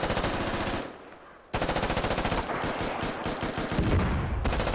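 Video game gunfire as vehicles fire on infantry, loud sustained rapid bursts of automatic fire with a brief pause before the shooting resumes and continues heavily.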